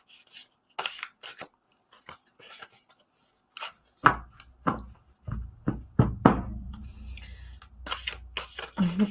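An oracle card deck being shuffled, giving soft papery riffles and taps that start sparse and faint, then turn into louder, closer bursts of flicking and rubbing over a low background hum.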